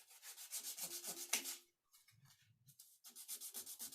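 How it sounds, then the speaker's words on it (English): Sandpaper of 180 grit rubbing over a stained, lathe-turned wooden piece in brisk back-and-forth strokes, a near, dry scratchy hiss that pauses briefly midway before resuming. "We just sand it back ever so slightly."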